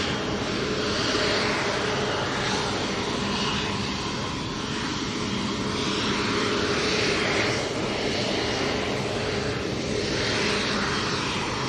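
Virgin Atlantic jet at Manchester Airport on a quick turnaround departure, a loud, sustained engine roar that swells and eases slightly across the clip, with no voices over it.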